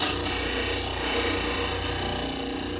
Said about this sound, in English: We're going to put this on the model trimmer and trim until I just skim the maxillary model